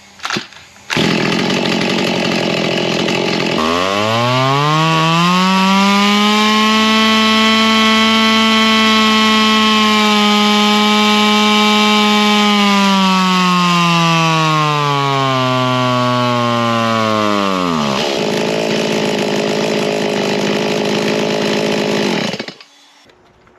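A race-modified chainsaw fitted with a stock muffler on a stock cylinder revs up and cuts through wood, a loud sustained high-pitched whine that sags slightly under load before releasing, alone and close.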